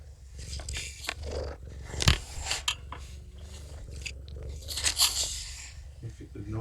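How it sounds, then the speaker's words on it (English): Kougra the cat rubs against the back of a camera, giving close, soft scuffing and bumping noises with a few sharper knocks, plus faint purring over low background sounds. "The noise you hear on live stream is Kougra rubbing against the back of the camera."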